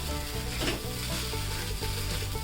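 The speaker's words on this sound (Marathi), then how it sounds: "हा कोरड्यांचा चुरा टाकूया चांगलं व्यवस्थित मिक्स करून घ्या तुम्ही" Crushed dried kurdai being mixed and fried in a pan, a dense continuous sizzle with stirring rustle throughout, close and fairly quiet, with no voices.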